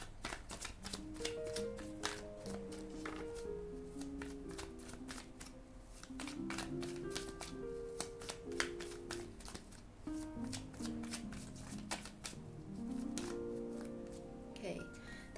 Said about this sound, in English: let's pull out another card for this one